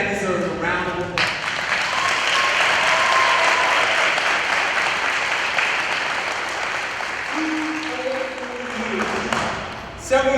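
A crowd at a Ridge View High School cording ceremony breaks into loud, dense applause that holds steady for several seconds, then thins as a voice begins to speak over the fading claps.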